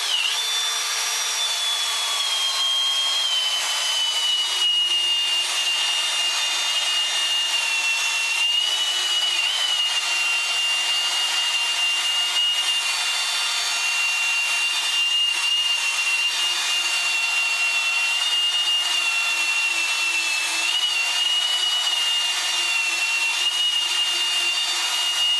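Steady whirring hiss of a sanding disc grinding against a yellowed plastic car headlight, continuous and even throughout, with a high whine riding on top.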